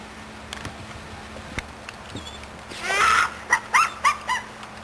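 A few soft taps, then a brief rustling scuffle followed by four short, high-pitched puppy yips in quick succession, close by.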